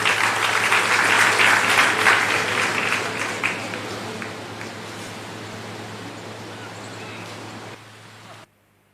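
Audience applause at a government ceremony held by the chief minister, a dense sustained clapping that gradually thins and fades before stopping abruptly.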